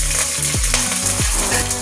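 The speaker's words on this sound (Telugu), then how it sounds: "కరివేపాకు, పుదీనా వేగిన తర్వాత పచ్చిమిర్చి కూడా వేసుకోవాలి." Green chillies frying in hot oil with curry leaves and mint while making wheat rava upma, a loud crackling sizzle broken by a few quick scraping stirs, very close.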